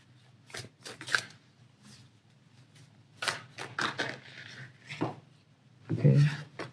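A deck of tarot cards is shuffled nearby in several quick riffling bursts broken by pauses, with soft handling clicks and a louder flurry near the end.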